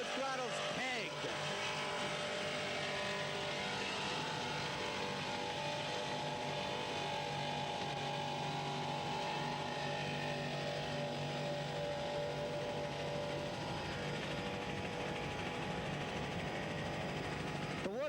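Offshore racing powerboats run at full throttle in the 1981 Lobster Shanty race at Toms River, New Jersey, giving a continuous, steady engine drone from a distance. A commentator talks over it throughout.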